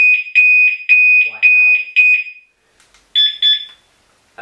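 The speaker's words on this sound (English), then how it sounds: "You can push this button here at the bottom and it will start beeping" A motorbike security alarm gives loud, piercing electronic beeps in a rapid steady series, then breaks off, with a brief spoken word and two more beeps after.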